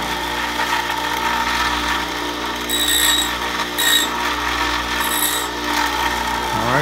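Shaping a ZeroGlide nut on an Epiphone Les Paul Special Edition VE gives a continuous rasping, ratchet-like grinding with a steady hum, with a few sharp high bursts, close up and fairly loud.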